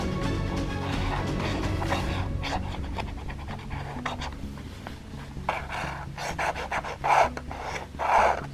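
An FDJ Super 500 scratch card being scratched: continuous close raspy rubbing in short repeated strokes, growing louder and harsher toward the end, with no talk.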